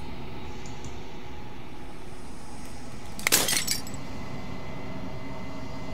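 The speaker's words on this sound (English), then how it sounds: "As the final fragment of glass shatters" Glass shatters in the video game Slay the Princess, a single bright, brief crash with a short tinkling tail, heard over a steady low ambient drone.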